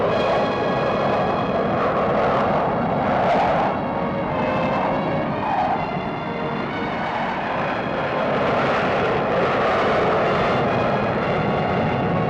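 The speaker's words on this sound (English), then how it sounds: "Two hunters, led by squadron leader Roger Top, gave a wonderful display of close formation flying" Two Hawker Hunter jets flying a close formation display roar steadily overhead, a loud continuous engine rush that swells and fades slightly throughout, with no voices.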